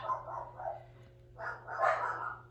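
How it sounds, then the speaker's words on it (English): Dogs bark a few times in the distance behind a closed door in a home craft room, faint and muffled over a low steady hum. "Oops, there goes my dogs."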